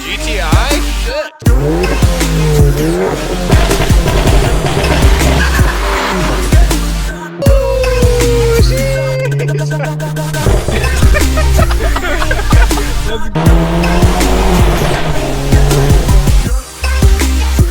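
A Stage 2 Volkswagen GTI Mk7 drives hard and loud, its engine roaring continuously with sweeping pitch changes and tire-squeal-like screeches, broken by brief sharp cuts as it passes close by.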